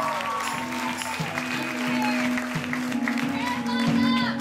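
Audience applause at a live concert in Allston, MA for a drummer, sustained clapping under crowd noise and a voice speaking over it throughout.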